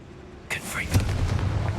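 A fire spell explodes in a wizarding video game: a sudden broadband blast bursts in after a quiet half-second, then gives way to a rough, crackling roar that holds steady at moderate loudness to the end.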